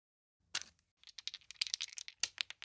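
Rapid keystrokes on a computer keyboard as a sound effect, with a sharp opening burst followed by a steady run of close, crisp taps.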